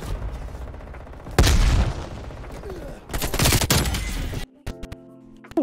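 Gunfire in Call of Duty Black Ops Cold War comes as loud rapid automatic bursts and heavy impacts in two main volleys, followed by a quieter tail of game sounds.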